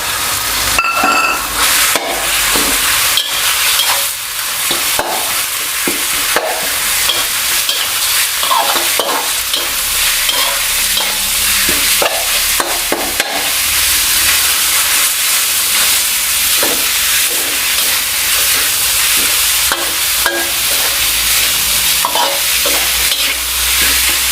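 Minced pork for an old-style holy basil stir-fry is tossed in a hot pan, a loud, continuous sizzle with steady scraping and clanking of the utensil against the pan throughout.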